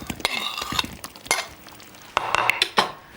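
Spoon stirring koftas through tomato sauce in a pan, with repeated clinks and scrapes of utensil against cookware, close and moderately loud, no talking.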